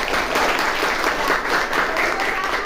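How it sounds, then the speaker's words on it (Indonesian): A classroom breaks into continuous, even applause for a student group, dense clapping sustained throughout at close range with no talk over it. "tepuk tangan buat kelompok 1"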